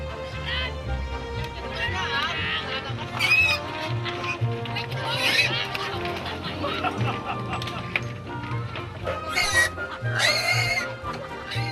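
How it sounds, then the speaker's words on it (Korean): Pigs grunt and squeal as villagers move them around a floating village, the animal noises scattered through steady talking and general commotion. "한바탕 실랑이를 벌인 후에야 돼지들이 움직이기 시작했는데요."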